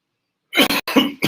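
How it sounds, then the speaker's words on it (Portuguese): A short run of harsh coughs from a presenter on stage at a business talk, three or four close bursts after a silent start, loud and near. "Tá pegando aqui a tosse"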